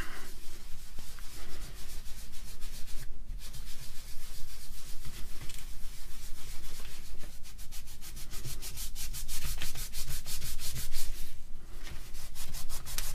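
Hand rubbing of a plastic part with Novus 3 abrasive polish during restoration of a vintage AEG BH25 rotary hammer, a steady scratchy back-and-forth scrubbing that runs throughout, close and continuous with brief pauses.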